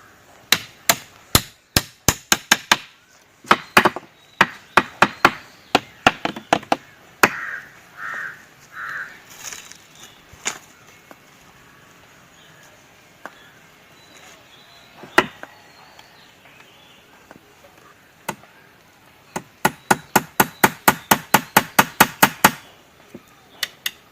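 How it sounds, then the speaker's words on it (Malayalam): Hammer blows striking wooden chair parts made from local timber, sharp knocks in quick bursts of rapid strikes separated by pauses, close and loud with no talking. "നമുക്കിതിൻ്റെ ബാക്കും മറ്റേ സൈഡൊക്കെ ഒന്ന് അടിച്ചു കൊടുക്കാം"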